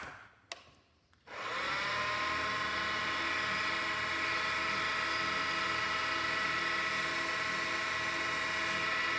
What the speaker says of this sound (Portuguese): Você pode deixar o torno em média rotação e pode passar a cera.